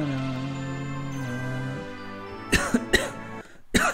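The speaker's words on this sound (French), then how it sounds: "il va couper le son quand je tousse" A man coughs in a few harsh close bursts near the end, after a steady tonal game-music drone during a Rayman 1 play session.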